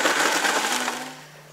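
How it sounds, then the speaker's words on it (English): A kitchen blender whirring as it purees flax cracker sauce with water, a loud broadband motor roar that steadily winds down and fades over under two seconds, heard alone. "We're going to blend this up."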